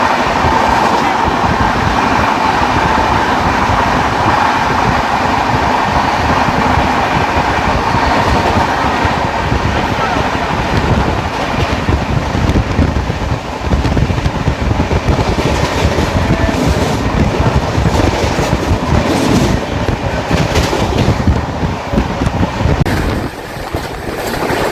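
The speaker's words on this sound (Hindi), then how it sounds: "हमारी ट्रेन भाग रही है।" Inside the 12615 Grand Trunk Express, an Indian passenger train running at speed, a loud continuous rumble and rattle of wheels on rails with faint rhythmic clatter throughout.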